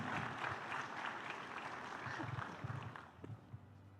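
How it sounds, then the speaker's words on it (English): Audience applause at a defence summit: a dense, steady round of clapping from a crowd that thins toward the end, fairly distant and moderate in level. "A huge round of applause."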